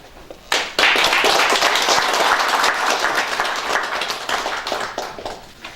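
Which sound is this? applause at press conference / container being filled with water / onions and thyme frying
applause at press conference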